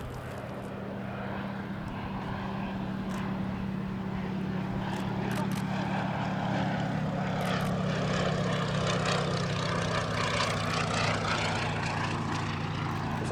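Fairey Swordfish biplane with a Bristol Pegasus radial engine flying at an air festival, a steady droning propeller engine held throughout at moderate distance, with a faint voice over it.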